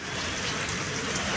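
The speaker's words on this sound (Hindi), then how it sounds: "अल्लाह ताला ने बारिश कर दी" A brief burst of rain falls in a steady, dense patter of drops on surfaces, even and unbroken, with no one speaking.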